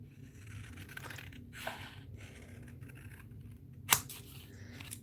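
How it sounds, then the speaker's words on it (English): A few quiet snips of scissors hand-cutting cardstock, with one sharper, louder snip near the end against a soft background. "Scissors to the rescue."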